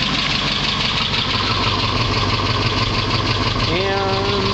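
A 1978 Chevrolet K5 Blazer's 305 V8 with a two-barrel carburetor idles steadily up close, a deep rumbling drone with a faint ticking rhythm and a poor exhaust, running on without letting up.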